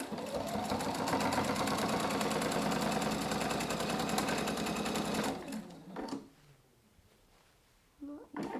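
A sewing machine stay-stitches along the edge of a thick quilted fabric travel bag, a fast steady mechanical whirring and clatter that runs for about five seconds and then stops, followed by quiet handling sounds and a brief soft voice.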